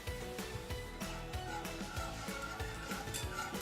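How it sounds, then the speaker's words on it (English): Jelly powder is whisked into a pudding mixture of palm sugar syrup and coconut milk, with rapid, continuous clicking and scraping of the whisk against the bowl held at a steady, moderate level. "And you just whisk it."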